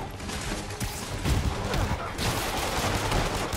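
In the Spider-Man video game, a thick spray of gunfire rattles on without pause, dense overlapping shots and impacts of moderate loudness over a busy background, with nobody speaking.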